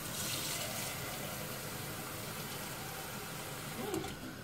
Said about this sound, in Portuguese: agora venho com água. Até cobrir a carne,